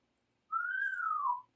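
A pet talking bird gives one clear rising-then-falling whistle lasting about a second, alone and fairly soft in a quiet room.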